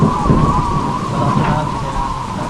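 Steady heavy rain pours down at sea during a storm in a dense, continuous hiss, with a rushing roar of strong wind underneath and no voices.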